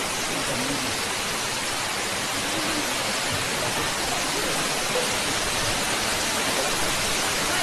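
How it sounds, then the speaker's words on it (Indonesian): Tall indoor waterfall in the Cloud Forest at Gardens by the Bay, Singapore, a steady, loud roar of falling water that fills the space without a break. "Wow, air terjun."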